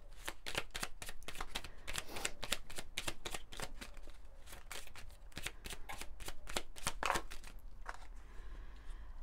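Oracle cards are shuffled by hand in a steady run of rapid, crisp riffling flutters that continue nearly throughout, close up and fairly quiet.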